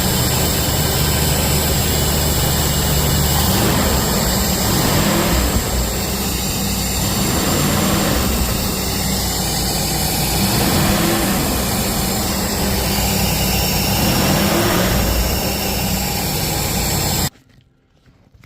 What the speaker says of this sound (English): When I'm cranking it, it cranks for a bit before it actually kicks on.